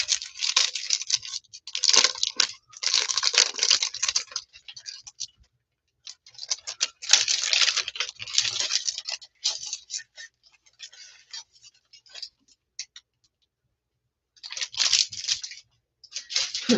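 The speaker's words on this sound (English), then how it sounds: "all my tie-dye tissue paper that I got is in plastic bags. So it's going to be crackling a little bit" Tie-dye tissue paper being handled inside plastic bags, giving bursts of close, loud crackling and crinkling separated by short pauses.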